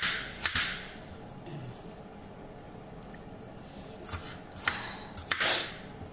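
A knife cutting through onions on a board, several quiet, sparse chopping strokes with gaps between them, near and soft.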